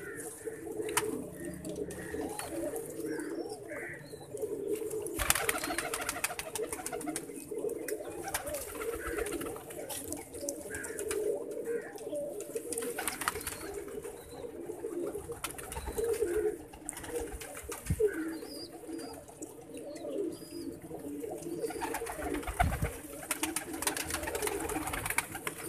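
Pigeons coo softly in low, repeated murmurs under steady outdoor background noise, with scattered faint chirps throughout.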